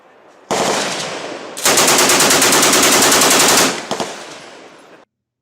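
A Browning Automatic Rifle (BAR) fires full-auto: a short opening burst, then a long, loud, steady stream of rapid shots, with a couple of trailing shots and a brief echo after it stops.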